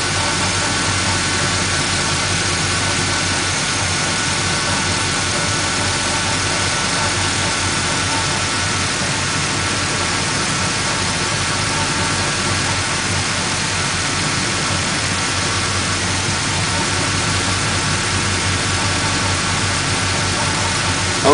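A car engine fitted with a Unichip tuning module runs steadily with its revs locked at one speed, a constant loud hum with no talking over it.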